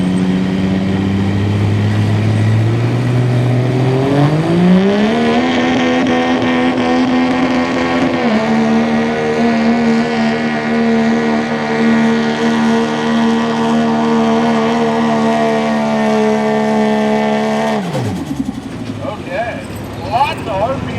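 A pulling truck at a truck and tractor pull, engine screaming as it climbs sharply in pitch, holds a high sustained wail under a commentator's amplified voice, then drops away abruptly near the end as the run finishes.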